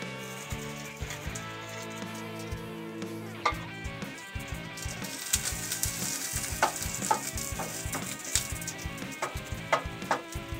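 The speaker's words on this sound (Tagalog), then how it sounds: "Tapos ng mga ating bawang, pwede na natin ilagay dyan ang ating sibuyas." Onion goes into a pan after garlic for a steamed pompano in pork and beans sauce, giving a steady sizzle with occasional utensil clinks, mixed with a sustained tonal background.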